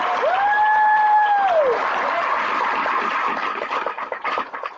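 An audience at a report launch event claps in a steady round of applause that tapers off toward the end, with a brief electronic whistle or feedback tone early on.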